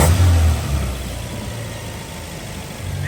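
1981 Dodge Challenger four-cylinder engine with a carburetor fault, dropping a cylinder: a brief low rev burst that falls back to a rough, uneven idle, close and fairly loud with no voices.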